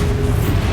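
A Bombarda spell blast in Hogwarts Legacy, heard as a loud, dense, low rumbling roar with crackling texture that fills the whole brief moment without a pause.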